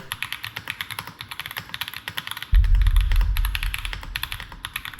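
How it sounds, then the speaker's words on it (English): Rapid custom-built mechanical keyboard typing, crisp clicky keystrokes in a steady flurry, close up, with a low rumble joining halfway through. "The keyboard actually worked perfectly. It also sounded really nice and unique"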